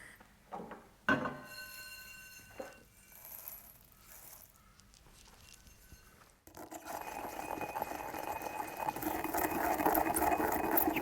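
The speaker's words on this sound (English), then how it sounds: "then toast off some cumin and coriander seeds to intensify their aromatics" Whole cumin and coriander seeds toast in a dry pan, giving a few light taps and rattles, then a steady close crackling sizzle.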